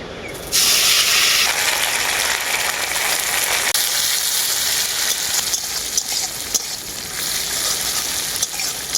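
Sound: neem leaves frying in mustard oil

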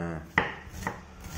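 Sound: chopping onion finely with a knife

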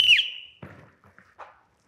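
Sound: whistle blown to start a drill

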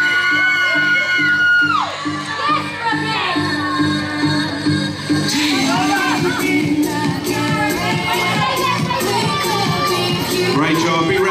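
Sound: audience applause and cheering at fitness competition

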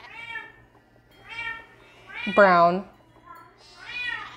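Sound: pet cat meowing in the room

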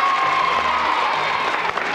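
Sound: audience applause

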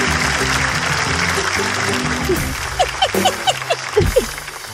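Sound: audience applause for a guest

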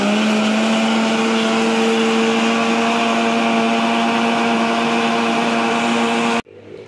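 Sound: blender running, mixing cake batter

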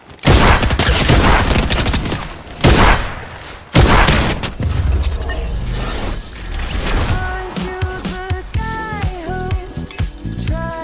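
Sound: sniper rifle gunfire in Fortnite video game

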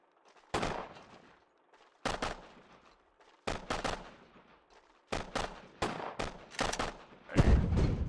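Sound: gunfire from soldiers in video game Sudden Strike 2

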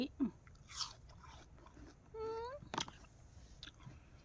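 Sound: biting and chewing a crisp apple

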